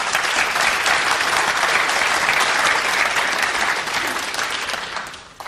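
Crowd at a World Cup of Pool final applauding a shot, a dense, loud burst of clapping that holds steady for several seconds, then thins and fades out near the end.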